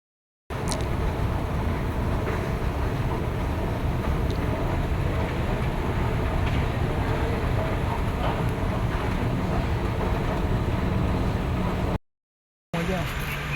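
A train at a busy Kolkata rail station rumbles and roars steadily for several seconds, a dense, loud wash of rolling noise and wind with no clear voices above it.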